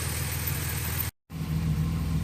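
Warm BMW E46 engine idling: a steady, low, even rumble, close and moderately loud, broken by a brief silent gap midway before resuming.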